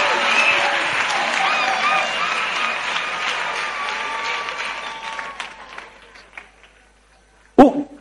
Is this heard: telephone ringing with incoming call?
no